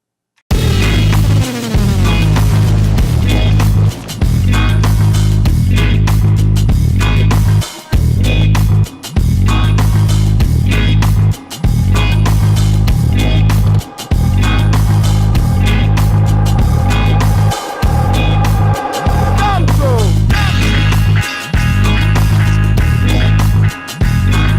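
Compressed, distorted music played through a master-bus compressor, loud and dense throughout with a pumping beat that drops out in brief regular gaps, and no voices.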